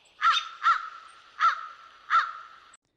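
Four loud, harsh crow caws ring out close by in the Pacific Northwest, evenly spaced and then silence.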